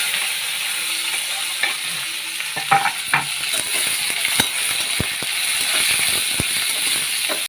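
Peanuts frying in oil in a home kitchen, with onion, green chili and curry leaves tossed in, a steady close sizzle broken by scattered stirring scrapes and taps of a spoon against the pan.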